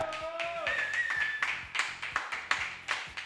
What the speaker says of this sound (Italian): chi che se ne sta qua del pubblico, un bel applauso perché Enrico e Filippo